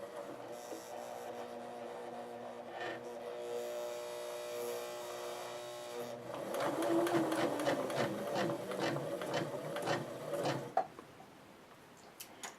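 A sewing machine runs through a 7th grade threading sample test, stitching around a curve with a low steady hum that breaks into faster, louder rhythmic stitching and then stops.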